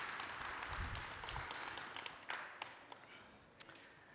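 Applause from a conference audience greeting a speaker on stage, clapping that starts fairly full and thins into scattered individual claps toward the end.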